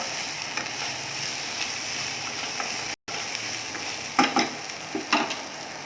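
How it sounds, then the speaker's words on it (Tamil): Onions sautéing in a pan for idli upma give a soft, continuous sizzle, with a couple of louder scraping stirs near the end. "இப்போ வெங்காயம் இந்த அளவுக்கு வதங்கினா போதும்."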